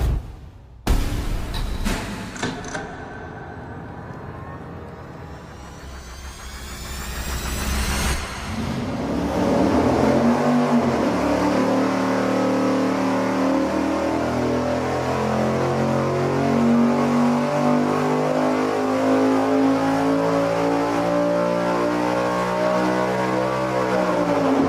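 A high-horsepower racing engine on a dyno cranks, fires up and revs hard, rising into a loud, sustained climbing roar with steadily increasing pitch that fills the space.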